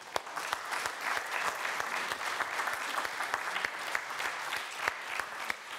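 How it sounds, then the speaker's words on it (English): Members of a church congregation at a Sunday worship service clap to honor the mothers standing among them on Mother's Day, a steady spread of many hands with sharp individual claps standing out, fairly soft and even throughout. "would you please stand so that we can honor you with an applause?"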